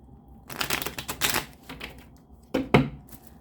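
Rapid riffling bursts of tarot cards being shuffled, a longer flurry then two sharp quick clusters, close by with no talking.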